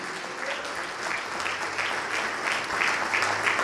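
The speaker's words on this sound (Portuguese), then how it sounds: "Vamos aplaudir mais, igreja." A church congregation applauds steadily at a Portuguese-language worship service, dense, continuous clapping filling the room for several seconds with no voice on top.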